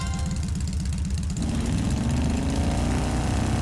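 A motorbike engine idles with a low, steady rumble, then revs up and pulls away with a rising drone in the video game The Legend of Heroes: Trails of Cold Steel. It is loud and continuous, with no talking.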